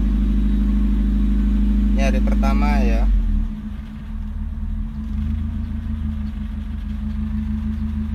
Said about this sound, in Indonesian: Setelah sekian lama nggak nyala nih mobil, coba nyalain, nyala.